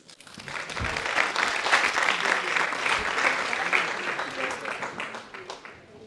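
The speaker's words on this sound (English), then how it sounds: "Can we give them a round of applause?" Applause for a medical faculty choir at an Alzheimer's conference, with a full audience clapping steadily from a quick start and fading slightly toward the end, loud and dense.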